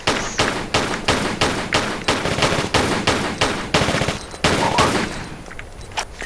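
Semi-automatic gunfire in Tomb Raider: The Last Revelation, a loud, steady series of about a dozen evenly spaced shots, thinning out toward the end.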